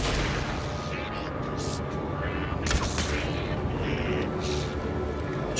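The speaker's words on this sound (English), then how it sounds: "Shoot a couple of rounds into him." Gunfire during the Mulligan and Thornton boss fight in Alan Wake 2: a few sharp shots crack out over a steady background of game noise and music, fairly quiet overall.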